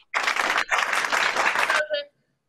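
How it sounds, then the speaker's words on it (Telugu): A group claps together for children at a kids' club session, a dense burst of applause with a brief dip partway through before it stops abruptly. "special clap"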